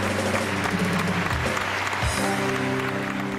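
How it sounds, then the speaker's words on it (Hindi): A studio audience at a Pakistani television game show claps steadily for a guest, a dense, continuous applause with a low hum of the hall beneath it. "एक बार सा फिर सारा के लिए बहुत सही ताली।"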